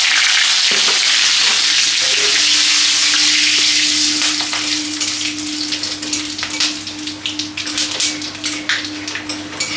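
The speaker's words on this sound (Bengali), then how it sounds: "এলাচগুলো ফাটিয়ে নিচ্ছি আমি।" Whole spices (bay leaf, cloves, green and black cardamom, cinnamon, cumin) sizzle loudly in hot mustard oil, a dense, close, continuous frying hiss with scattered crackles and pops, no voices.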